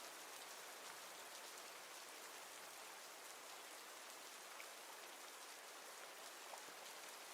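Steady rain falls throughout, a dense, even hiss of countless drops on surfaces, soft and continuous with no voices or other distinct sounds.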